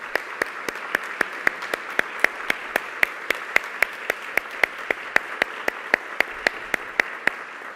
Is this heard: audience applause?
yes